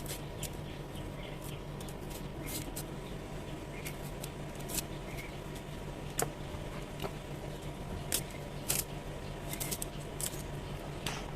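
Garlic cloves are peeled by hand for honey-pickled green garlic, giving quiet, close, papery crackles and scattered sharp ticks at an irregular rhythm.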